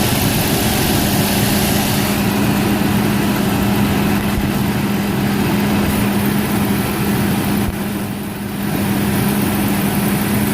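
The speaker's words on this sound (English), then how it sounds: "Very smooth running engine." A truck's 3.0 liter V6 engine with EFI idles steadily and smoothly, a loud, even low rumble that holds unchanged throughout with no voices.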